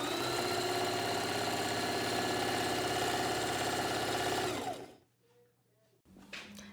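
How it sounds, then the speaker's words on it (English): A sewing machine stitches a fabric face mask in a steady, rapid mechanical hum for nearly five seconds, then stops, leaving quiet handling noise and a brief final whir. "lower the presser foot, and then begin sewing long ways towards you"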